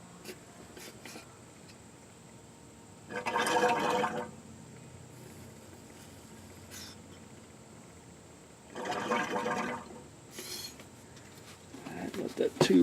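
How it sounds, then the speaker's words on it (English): Rear differential fluid gurgling as it drains from a 2000 Ford F350 dually pickup, two separate bursts of bubbly liquid sloshing between quieter stretches, fairly close. "And I can hear it gurgling the fluid in there."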